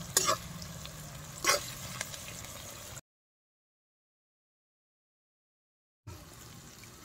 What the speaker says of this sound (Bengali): সব নাড়িয়ে এরকম কষিয়ে নেবো।